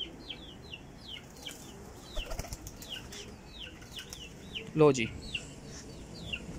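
Pigeons flap their wings in short bursts among chirping birds at a pigeon seller's, with one louder flutter standing out. Someone speaks briefly over the quiet background.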